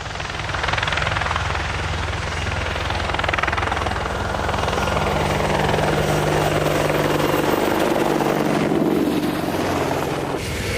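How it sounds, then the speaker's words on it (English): An AH-64D Longbow Apache, the US Army model, flies at the Farnborough airshow, its rotor and turbines roaring loudly and steadily, with a shift in pitch as it passes near the end. "It's the first time the Longbow Apache has flown at Farnborough, and I'm thrilled to say I'm flying it."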